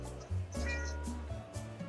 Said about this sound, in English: Vote for Kale, the fashionable cat.